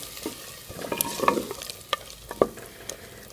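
Garam masala powder, half a spoonful, stirred into mixed vegetables and chicken frying in a pan, giving a soft low sizzle with a few sharp scrapes and taps of the spoon, quiet and close, no talking.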